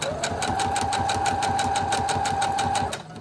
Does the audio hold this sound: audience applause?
no